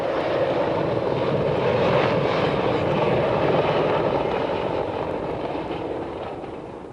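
A military helicopter, a Chinook or AH-64 Apache, roars loud and close with a dense, steady rotor and engine wash that eases slightly toward the end.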